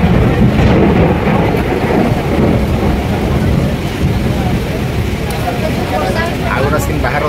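A heavy rainstorm with thunder near a train around Khordha on a Sunday evening: a loud, unbroken roar of rain and rumbling fills the whole stretch without letting up.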